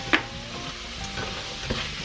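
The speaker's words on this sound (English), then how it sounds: "And just give that a little stir around for a minute." Puffball mushroom seasoned with lemon and pepper sizzles softly in a frying pan, with a couple of quiet scrapes of stirring over a low steady hiss.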